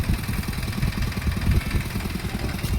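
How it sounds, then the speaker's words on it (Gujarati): A small farm tractor's engine running outdoors, a close, loud, steady chugging idle with clattery mechanical knocking throughout. "આ નાનું ટ્રેક્ટર છે અમારું"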